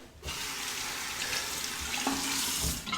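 Hot water runs from a tap for shaving, a steady close hiss of flow into a sink that starts abruptly and continues without talk.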